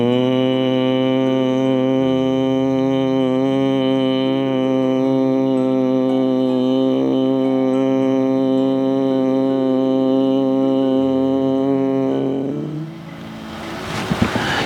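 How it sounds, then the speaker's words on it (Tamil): A steady, low nasal hum from one person during the exhale of Bhramari pranayama breathing practice, held as a single unbroken tone for about twelve seconds before it fades out. "இப்ப ஹம்மிங்."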